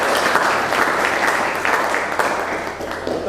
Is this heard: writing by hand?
no